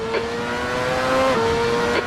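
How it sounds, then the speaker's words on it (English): A race car in a racing video game locks its right front tyre braking into the La Source hairpin at Spa, a sustained engine tone with a tyre squeal rising over it, loud and close. "You're locking your right front into La Source."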